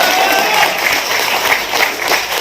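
Audience applause at a mushaira and kavi sammelan poetry recital, a steady wash of clapping from a crowd that runs loud and unbroken for a couple of seconds.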